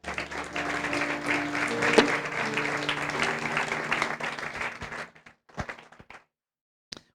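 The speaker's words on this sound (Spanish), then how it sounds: "Dale un buen aplauso al Rey." A church congregation claps for several seconds at moderate volume, the applause dense and even, with faint voices and music underneath, then breaks off into a few scattered, isolated claps and knocks before silence.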